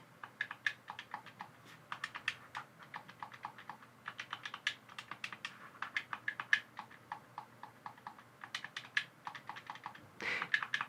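Rapid, crisp clicking of buttons on an Xbox Elite Series 2 controller, many sharp taps in quick irregular bursts, close and fairly quiet, with no voices.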